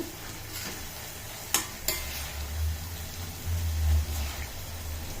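Indian gooseberries, fenugreek and curry leaves simmer in oil, giving a steady low bubbling sizzle with a few sharp stirring clinks of a utensil against the pot, close and alone without talk.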